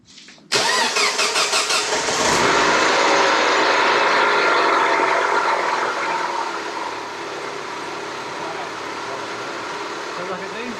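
A 2007 Mini Cooper S raised on a shop lift cranks and fires up, then settles into a loud, steady idle that eases slightly after a few seconds, close and continuous with no talk.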